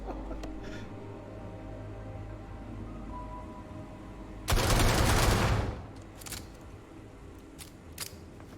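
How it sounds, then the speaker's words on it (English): Rapid fire from a long-range pistol with a binary trigger in Starfield, a loud dense burst of shots lasting about a second amid quieter game ambience, followed by a few faint clicks. "Binary trigger is lovely for rapid fire."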